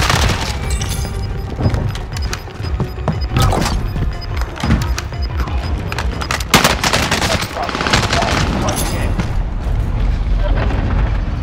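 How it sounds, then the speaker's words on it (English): Gunfire in a zombie-infestation shooter game, loud sharp shots and bursts repeating throughout over a dense game mix, with voices talking under the action. "Taking shots here!"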